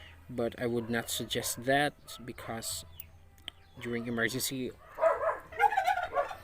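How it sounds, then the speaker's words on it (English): A dog barks in a short burst of sharp yips near the end, following someone speaking; the barks sound close and fairly loud. "So that was our dog."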